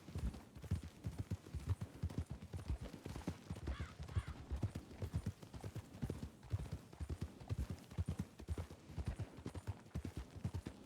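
Steady clip-clop of horse hooves at a trot in a video game, a continuous rhythmic patter of muffled thuds with no talking.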